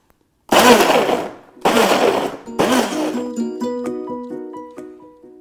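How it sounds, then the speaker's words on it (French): Countertop blender pulsed three times to mix a green spread, each burst a loud close whirring roar that stops abruptly, the last followed by ringing clinks of the jar settling. "avec le bouton pulse je vais pulser plusieurs fois pour tout mixer"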